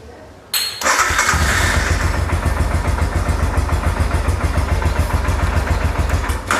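A motorcycle engine is cranked during a home battery test, catches within a second and settles into a loud, steady, close idle that throbs evenly and stays alone to the end.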